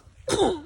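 A single short, sharp burst from a nearby person, a sneeze-like expulsion that rises abruptly and trails off quickly.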